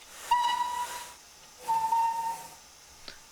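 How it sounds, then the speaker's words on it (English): Two short, clear blasts from the steam whistle of an LNWR G2 Class Super D locomotive in a train simulator game, each about half a second long, with soft steam hiss and no talking. "We got the different types of whistles."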